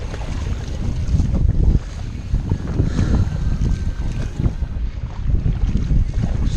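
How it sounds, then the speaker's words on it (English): Wind whips across a river during whitewater rafting, gusty buffeting rumble against the microphone mixed with choppy water splashing, loud and uneven throughout. "This wind has really stirred it up here."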